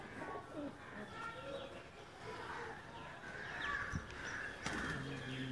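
Lakha pigeons, a pair, coo in low repeated murmurs amid a busy background of chirping birds, with a louder burst near the end.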